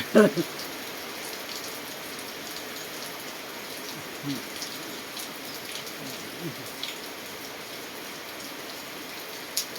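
Steady rain falls on a rainy day, a soft continuous hiss of drops hitting surfaces, with a few sharper taps and faint background sounds scattered through.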